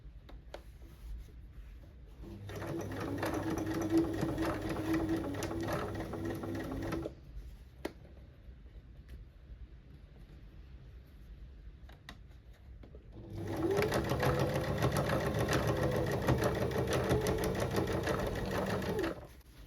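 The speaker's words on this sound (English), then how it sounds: "sewing the lining to that outside" A sewing machine stitches the lining onto the outer body of a Chloe-style tote bag, running in two long steady buzzing bursts separated by a quiet pause, close and clear with no talk.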